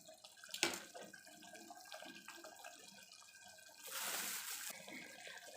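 Quiet kitchen clatter, then a brief burst of half a glass of water being poured into a pressure cooker of cluster beans and potato curry, splashing softly near the end.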